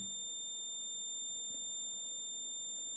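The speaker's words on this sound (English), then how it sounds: "Then you get a beep." A steady high-pitched electronic SWR alarm tone from a homemade ham radio power and SWR meter sounds continuously, with faint low background noise underneath.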